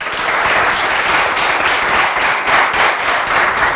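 A game show studio audience breaks into loud, continuous applause, a dense wash of clapping heard close and alone, without speech.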